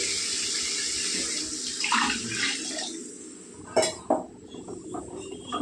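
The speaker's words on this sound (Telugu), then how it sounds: "గ్రేవీకి తగ్గట్టు నీళ్ళు వేసుకుందామండి" Water pours steadily into a pan of meal maker masala curry gravy, followed by a couple of sharp metallic clinks from a utensil, with no voices.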